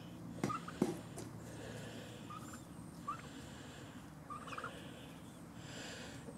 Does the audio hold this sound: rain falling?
no